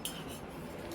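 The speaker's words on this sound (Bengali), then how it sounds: "একটু চামচ আর হাতা নিই।" Spoons and a ladle clink in a home kitchen, one quick light metallic chink at the start and then soft handling noise, faint and brief.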